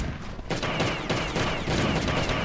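Rapid shotgun blasts from the mobile survival game Last Day on Earth, a dense burst of loud overlapping gunfire with booming reports in quick succession, continuous through the clip.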